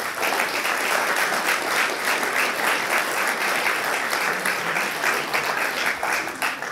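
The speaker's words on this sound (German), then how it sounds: "Wie ist euer 5-Punkte-Applaus?" Steady, dense applause from a poetry slam audience at Heinrich der Slam 2022, rating a performance at five points. Moderately loud and unbroken for the whole stretch, with no voices over it.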